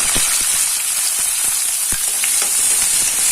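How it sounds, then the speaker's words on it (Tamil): Steady hiss of chopped onions frying in hot oil with bay leaf and kalpasi, with a few soft scraping stirs at irregular intervals; close and continuous, no voices. "நல்லா ஃப்ரை பண்ணிக்கலாம்"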